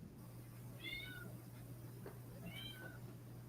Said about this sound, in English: My gosh, that's a loud cat.